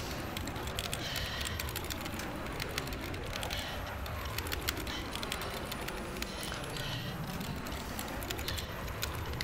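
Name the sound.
computer keyboard keys tapping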